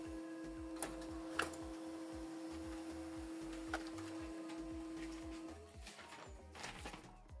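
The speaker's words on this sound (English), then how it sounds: "It's now printing out the test page." An HP LaserJet 107w laser printer running off a test page gives a faint mechanical whir with a rhythmic low ticking and a steady tone, plus a few sharp clicks. The hum drops away near the end as the page feeds out.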